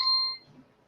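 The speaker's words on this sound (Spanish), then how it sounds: "Apago la alarma." An electronic alarm gives one short, bright beep at the start, then cuts off, leaving faint room tone and a murmur of background noise.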